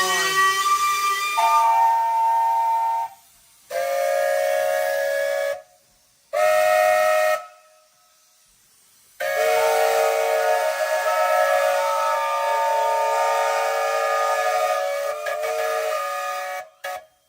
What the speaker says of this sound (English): Whistle time.